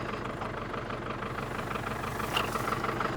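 A farm tractor engine idles steadily and continuously, with a low, rough rumble and no pauses or changes in speed.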